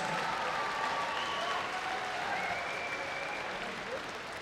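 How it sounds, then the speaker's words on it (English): Crowd applause and cheering wash through an arena after a six-round professional flyweight boxing bout. The sound is fairly quiet and distant, a steady roar with faint whistles running through it. "Please have a round of applause for these two flyweight warriors."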